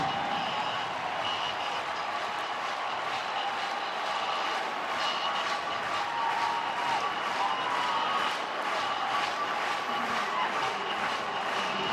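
Large stadium crowd roaring at a college football game between Wisconsin and Nebraska in Lincoln, Nebraska, a sustained distant wash of cheering that swells in pulses and runs the whole time, with no words spoken.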